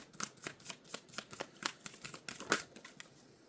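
A deck of cards is shuffled in quick riffling bursts, a close, crisp series of flicks and snaps repeating at a brisk irregular rhythm, alone without speech.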